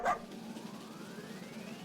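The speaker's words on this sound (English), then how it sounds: "an extremely bad-tempered pink poodle stops us in our tracks. It won't stop barking." A bad-tempered pink poodle in the video game Delete After Reading lets out a single short, fairly faint bark at the start, then only low background ambience remains.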